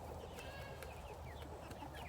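A small escaped rooster back inside a netted chicken pen clucks in a few short, soft calls over a steady outdoor background hum.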